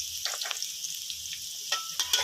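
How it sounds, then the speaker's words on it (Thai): Garlic frying in oil in a pan, a steady bright sizzle with occasional louder crackles and stirring scrapes, close by. "เจียวกระเทียมให้เหลืองนะครับ"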